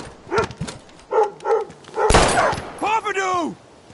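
In the Life is Strange video game, a single sharp gunshot cracks out mid-scene amid a dog's barks and whimpers, with tense shouted voices before and a rising wail after.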